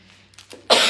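A woman with a persistent cough lasting a month coughs once, sharply and close, after a few soft breaths in an otherwise quiet setting.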